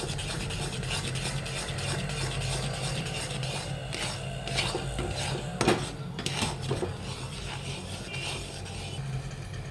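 Milk powder kalakand mixture thickening in a pan while being stirred with a metal spoon, producing close, irregular scraping and clinking against the pan over a low background hum.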